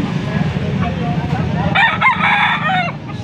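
A young stag gamecock crows once, close and loud, behind background chatter and low farmyard noise at a rooster market in Angeles City, Pampanga.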